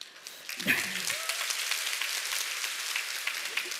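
Audience applause fills a seminar hall, a soft, steady patter of many hands heard at moderate distance, briefly interrupted near the start by a short voice or noise.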